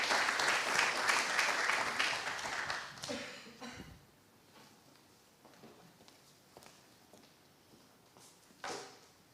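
Audience applause at a nutrition awards ceremony: dense clapping for about four seconds that quickly dies away, followed by scattered shuffles, knocks and a brief final burst of noise.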